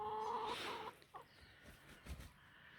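Backyard hens cluck quietly at a slight distance, giving a drawn-out call and then a few scattered soft clucks against faint outdoor background noise.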